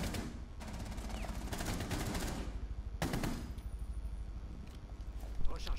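Gunfire in Rainbow Six Siege: repeated rapid automatic bursts, some close and loud, others thinner, come in several volleys and mix with game noise. Someone talks in French underneath.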